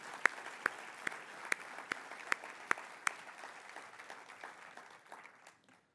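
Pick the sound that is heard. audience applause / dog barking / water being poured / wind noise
audience applause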